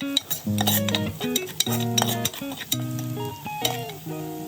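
A spoon stirs turmeric and salt into a pot of curry, clinking repeatedly against the metal in irregular scrapes and taps, with a soft sizzle running beneath.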